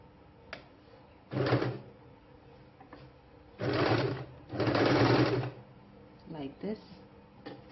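A sewing machine stitching along the outer edge of a folded fabric border on a kurti, running in three short bursts with pauses between them, close and fairly loud.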